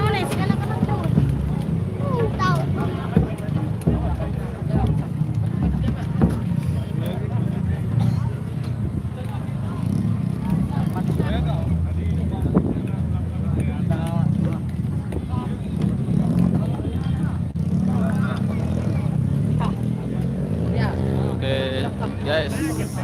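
Steady motorcycle engine drone and heavy wind rush fill a ride along a road toward a main highway during a nyongkolan procession in Anyar Kopang, continuous and close, with a voice talking over the noise.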